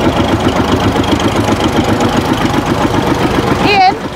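A Fordson Major diesel tractor engine idles close by with a loud, steady chugging beat; people talk over it at a tractor parade, and a brief rising whistle-like tone comes in near the end.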